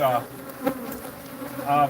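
Bees buzz as they climb out of small holes in a brick block, a steady close insect drone with louder swells at the start and end, no talk over it.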